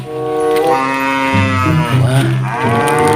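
A cow in an animal-finding game gives one long, loud, drawn-out moo that bends in pitch and fills the whole moment, with no voices over it.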